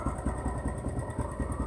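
Motorcycle engine idling steadily after an easy cold-morning start, a close, even low putter with a quick regular pulse and no voices.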